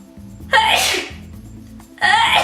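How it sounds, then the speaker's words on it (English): A woman sneezes loudly twice, a first explosive burst trailing off, then a second sharp sneeze about a second and a half later, both over a low steady hum. "I'm gonna sneeze."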